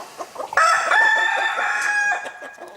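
Chickens cluck softly in short bursts before a rooster lets out a loud, clear, drawn-out crow lasting about a second and a half, with clucking around it at the end.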